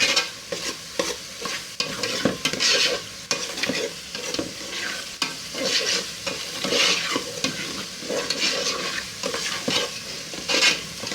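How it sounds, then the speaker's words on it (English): Blended pepper frying for plantain porridge, a steady close sizzle broken by repeated stirring scrapes, loud and continuous with no talking. "So we have to wait for like 5 to 6 minutes for it to fry very well"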